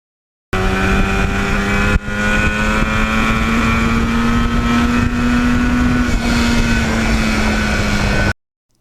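A 1977 Yamaha RD400 two-stroke motorcycle riding along a back road, its engine droning loud and steady at a constant pitch for about eight seconds, with a brief dip near the start.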